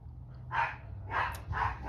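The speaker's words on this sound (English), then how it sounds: "I have 4 dogs, 3 Yorkies and a Boston Terrier." Small dogs, Yorkies and a Boston Terrier, bark three times in quick succession, a moderately loud indoor yapping with short gaps between barks.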